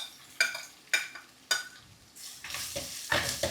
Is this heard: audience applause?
no